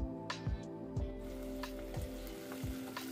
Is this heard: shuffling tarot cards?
no